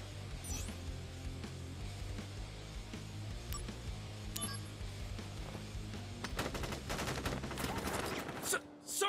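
Soldiers fire a gunfire volley in Final Fantasy 7 Crisis Core, with rapid bursts of shots over a low music bed that build into a dense, loud fusillade toward the end.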